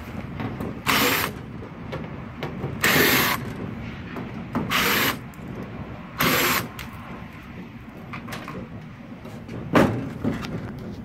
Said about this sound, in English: We're going to go ahead and remove the control panel.